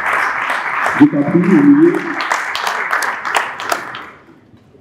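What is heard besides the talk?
audience applauding author's arrival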